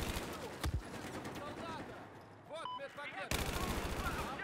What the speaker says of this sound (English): This gun is so good.